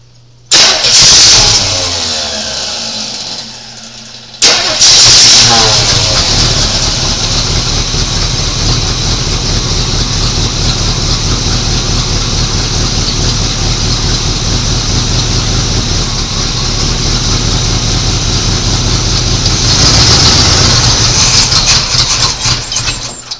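A 1986 Chevy C10 engine, nearly out of fuel, cranks twice, loud and close, then keeps turning over in a long, steady, droning churn that sometimes seems to catch without settling into a clean idle, with no talking.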